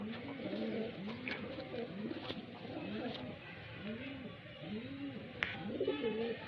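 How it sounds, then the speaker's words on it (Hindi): Highflyer pigeons in Bareilly cooing close by, repeated soft rolling coos in a steady rhythm from several birds, with a few faint clicks and distant noise around them. "इंशाल्लाह उड़ने के लिए तैयार हैं, बिल्कुल पूरी तैयारी पर दोस्तों सारे कबूतर"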